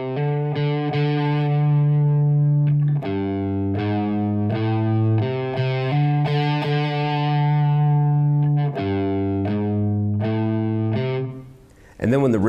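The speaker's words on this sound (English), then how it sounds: "I'll just turn the volume down on the guitar and strike a little softer with the pick." An electric guitar plays a riff with its volume turned down and picked softly, sustained low notes alternating with choppy repeated strums, close and steady for several seconds before trailing off.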